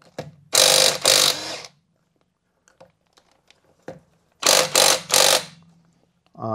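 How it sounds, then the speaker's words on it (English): A wheel nut on a Land Rover Freelander 2 is loosened while the car stands in a home garage. Two loud bursts of ratcheting and scraping, each split into several quick pulses, are separated by near silence with small clicks. "I'm loosening these wheel nuts while the vehicle's still on the ground."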